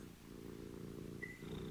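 A cat purrs close up, a soft, continuous, low rumbling vibration that stays steady and gentle throughout, with no talking.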